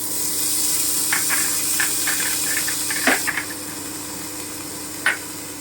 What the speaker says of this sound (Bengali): এবারে আমি আতর চালটাকে নিয়ে ভেজে নিচ্ছি